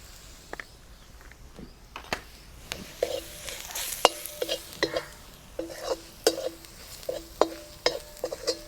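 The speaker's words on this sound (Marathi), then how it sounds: "मसाले पण चांगले परतून झालेले आहेत" Spices sautéing in a pan while being stirred repeatedly, crisp sizzling broken by rhythmic scraping strokes and clinks of the spoon against the pan, close and without talking.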